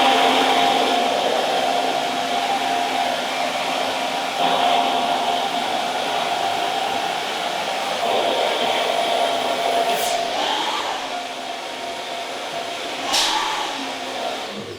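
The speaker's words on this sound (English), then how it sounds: "So I'm going to dry it off first just with my fingers" A hair dryer blows steadily on hair throughout, loud and close, its even roar shifting slightly as it moves, with a couple of brief brush or handling sounds.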